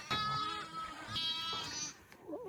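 Sheep bleat loudly and close on a rural Mongolian winter farm, two long wavering calls with more bleating from the flock in the background.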